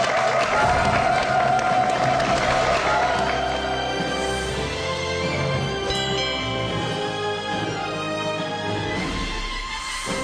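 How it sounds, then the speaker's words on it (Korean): A Korean TV studio audience applauds steadily to welcome a professor as a guest, a dense and continuous clapping that fades slightly toward the end. "여러분, 박수로 환영해 주십시오"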